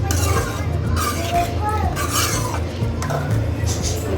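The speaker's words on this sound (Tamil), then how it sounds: "கிண்டி விட்டுருவோம்." Spoon scraping and clinking against a pot while stirring simmering chicken gravy, irregular soft knocks and scrapes close by, with someone talking over it.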